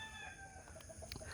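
Chickens cluck and a rooster crows among the flock on a farm with cattle, faint and distant over steady background noise, with short clucks scattered throughout.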